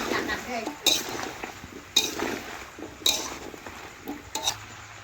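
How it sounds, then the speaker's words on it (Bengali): Pumpkin being stirred and sautéed in a pan at home, with a utensil scraping and clinking against the metal at steady intervals, a soft sizzle beneath, and light background voices. "কুমড়ো কিন্তু ভালোভাবে কষিয়ে নিচ্ছি"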